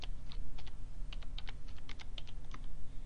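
Steady bursts of quick keystrokes on a computer keyboard, close and fairly clear over a low background rumble, as a title is typed in.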